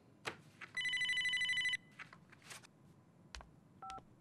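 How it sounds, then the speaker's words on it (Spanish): A mobile phone rings with a steady electronic ringtone lasting about a second, followed by a few faint clicks and short beeps in an otherwise quiet indoor setting. "Espera un momento, me suena el móvil."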